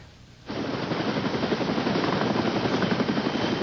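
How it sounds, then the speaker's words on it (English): A Care Flight rescue helicopter's rotor suddenly starts up loud and close at a brush fire, a fast rhythmic chopping thud that continues steadily with no voices. "taken by Care Flight helicopter to a nearby hospital"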